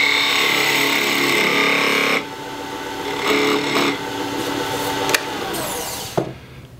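A wood lathe turns a wooden wine stopper held in a draw collet while a tool cuts it, giving a loud, close scraping rasp that eases, returns in bursts and ends with a few sharp knocks.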